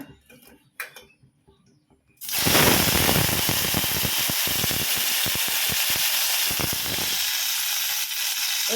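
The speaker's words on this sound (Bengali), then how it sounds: "এর ভিতরে আমি এখন ভেন্ডিগুলো দিয়ে দেব" Okra slid into hot oil in a pan sets off a sudden loud, steady hiss and crackle of frying that runs on for several seconds after a few quiet handling clicks.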